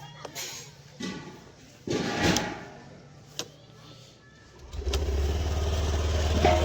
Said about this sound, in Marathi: कोल्ड स्टार्ट दिला गाईज आपण एक